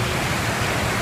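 Heavy pouring rain in a lightning storm, heard from under a highway bridge on Interstate 45 near Conroe, a dense, steady, loud hiss that continues without a break.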